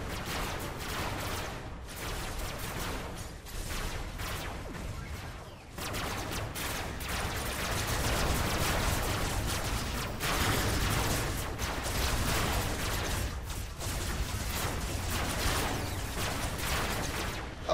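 Sustained SMG gunfire from a tracked vehicle battle in the video game Robocraft, rattling continuously at full loudness for the whole stretch with only brief dips around two and six seconds.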